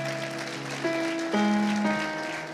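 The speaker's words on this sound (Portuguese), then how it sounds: "Pode aplaudir o Senhor." A church congregation applauds the Lord during a worship service, the clapping a steady broadband patter that swells midway, mixed with sustained music tones and no speech.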